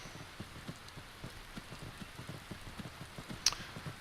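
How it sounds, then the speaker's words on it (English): Rain falling in the fantasy game Skyrim, a soft, steady patter of drops on the ground that stays quiet throughout, with one brief brighter tick near the end. "And it's begun raining."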